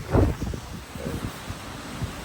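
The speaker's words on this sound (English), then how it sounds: "I'm still here in a really windy day." Gusty wind sweeps across open fields in Stirlingshire, Scotland, a steady low buffeting rumble pressing on the microphone with a stronger gust near the start, no voices.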